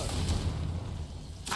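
Confringo blasting spell cast in Hogwarts Legacy: a single dense, rumbling whoosh-blast that fills the moment, ending in a brief sharp burst.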